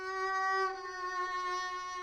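A violin played with a mute holds a steady, bright, slightly veiled note from a song. The tone is sustained and alone, with rich overtones and a small swell partway through.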